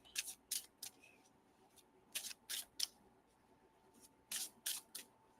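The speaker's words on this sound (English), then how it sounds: "I will keep shuffling till someone says stop." Tarot cards are shuffled in quick, crisp bursts of riffling, about three short flurries separated by pauses, close and fairly quiet, with no talking.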